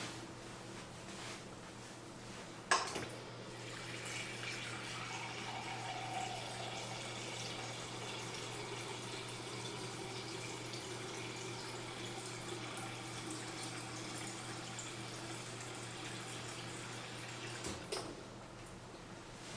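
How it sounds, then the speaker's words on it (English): Tap water runs steadily into a vessel in a kitchen, a continuous soft rushing hiss over low hum, with a clunk as it starts and another near the end. "So I'll get some water now."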